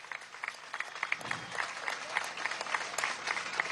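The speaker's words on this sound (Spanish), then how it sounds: "Un aplauso fuerte a los milicianos y milicianas" A crowd at an outdoor political march in Caracas applauds, a faint, distant wash of scattered clapping running throughout.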